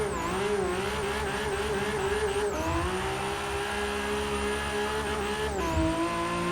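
A Nissan R32 Skyline GT-R launches in the video game Forza 6, its engine revving hard with clear gear-shift pitch drops, a continuous loud whine and rumble over about six seconds.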